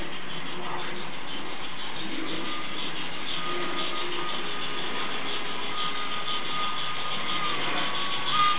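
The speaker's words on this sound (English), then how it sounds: "And the BR44 class is coming through now," Weathered BR44 class steam engine on a Fleischmann model railway layout rolls past, a continuous close whirring motor and wheel rumble with faint squeaks holding steady at a loud level, no voices.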